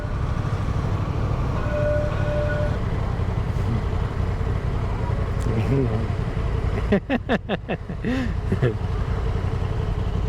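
Steady hum of a small Honda NAVi scooter engine while riding through the city, with a rider talking over it and a short burst of wind buffeting near the end.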